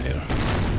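A musket volley in Empire: Total War, a dense rumbling burst of many shots firing together that swells abruptly and holds loud and boomy for the rest of the moment.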